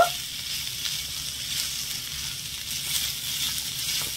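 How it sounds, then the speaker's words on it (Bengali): Garlic and green chilies fry in hot oil in a pan, a steady low hiss of sizzling with faint stirring, close and continuous, no voices. "এবারে নেড়ে ছেড়ে এই রসুন আর কাঁচা লঙ্কাটা সমেত একটু ভেজে নেব"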